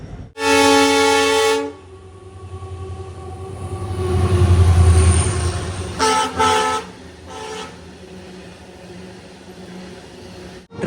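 The Nagaland Express pulls into Siliguri Junction: a long, loud horn blast opens, then a swelling rumble of the moving train, followed by a pair of shorter horn toots and a quieter steady run.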